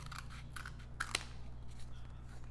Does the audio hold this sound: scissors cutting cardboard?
yes